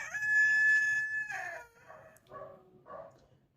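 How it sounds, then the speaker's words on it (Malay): A rooster crows once, loud and near, in a long drawn-out call, followed by a few shorter clucking calls as it tails off, with no voices over it. "tengok ayam saya. Bila saya start je mengajar, dia pun start berkokok."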